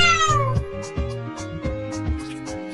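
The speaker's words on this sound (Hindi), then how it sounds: "This is a cat" A cat meows once with a drawn-out, falling call at the start, then a steady low rhythmic pulse continues beneath it for the rest of the moment.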